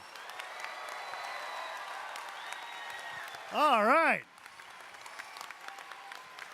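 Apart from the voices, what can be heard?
applause for the volunteers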